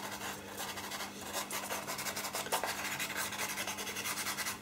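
A finger rubbing pastel pencil into paper gives a steady, close, soft scratchy rasp that keeps up without a break, brushing back and forth at an even, quiet level with no voice over it.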